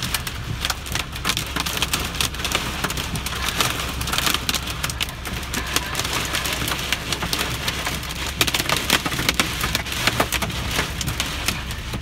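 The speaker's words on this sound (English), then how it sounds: "the hail's kind of coming down a little bit now" Hail driven by wind during a derecho storm in eastern Iowa patters densely and continuously on surfaces, with dense sharp impacts over a steady roaring wash throughout.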